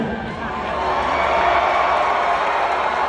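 A rodeo crowd at the PBR London Classic 2024 bull-riding event cheers and claps in a steady, loud roar of mixed voices that swells slightly and holds throughout.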